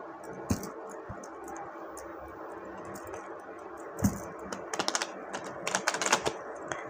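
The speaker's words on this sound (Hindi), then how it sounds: "तो चलिए मैं शफल कर लेती हूँ।" Tarot cards are shuffled by hand in a quiet room, giving soft, irregular papery flicks and clicks that build into quick clustered bursts toward the end.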